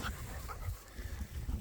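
A dog on a sheep farm gives a few short, muffled barks and yips at middling distance amid outdoor background noise.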